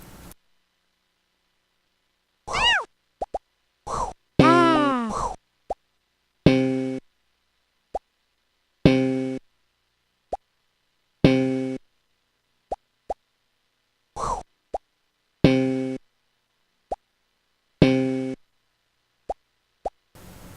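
Sound effects from the platformer video game Noop's Odyssey: sparse, bouncy plops, blips and twangy tones, isolated and spaced irregularly across near-silence.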